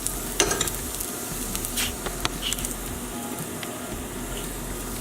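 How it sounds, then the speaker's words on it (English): Charred shallots and poblano peppers are tipped into a pan of corn, with spoon stirring and scraping sounds over a soft, constant sizzle and a few sharp clinks. "So we're going to add the shallots and the peppers to the corn"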